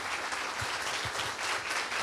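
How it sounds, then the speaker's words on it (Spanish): Steady applause from an audience at an interview event, a soft, even wash of clapping heard at a distance without talk. "¡Oh, aplausos!"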